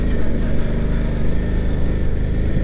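Suzuki V-Strom 650 XT motorcycle engine pulling hard under acceleration, a loud, close, continuous low rumble with steady throttle and no talk.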